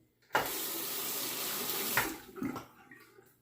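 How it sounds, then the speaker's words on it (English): Tap water runs steadily into a sink to wet a safety razor before a shave, a broad hiss lasting about two seconds, then breaking into a few drips and splashes as it stops. "I'll wet the razor here."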